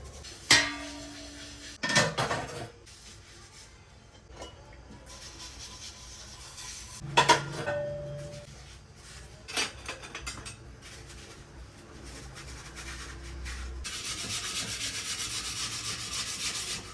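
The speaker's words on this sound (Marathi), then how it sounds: "तवा सगळ्यात शेवटला घासला" Intermittent scraping and rubbing as a metal griddle pan is scrubbed, with a few sharp clanks and knocks, close by and fairly quiet, no voices.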